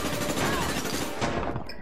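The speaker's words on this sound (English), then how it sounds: "You can't do anything against that shotgun." Rapid shotgun blasts in the online shooter APB Reloaded, a dense, loud burst of gunfire filling the whole moment with no voices over it.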